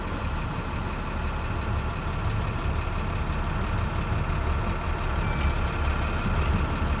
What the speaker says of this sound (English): release tractor and trailer brakes, and keep going under 5 miles per hour